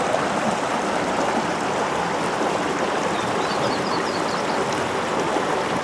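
Blue Canyon Creek flowing steadily in the mountain backcountry near a deep pool, a continuous close rushing and gurgling wash of water with no voices.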